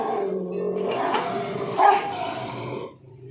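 A Rottweiler growls low and steadily at feeding time, with a louder snarl rising briefly in the middle before it tapers off. The sound is close and unbroken, with no speech.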